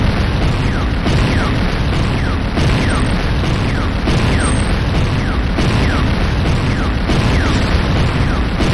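A Command & Conquer Renegade infantry barracks goes up in loud explosions, a dense continuous rumble with regular booming bursts about once a second.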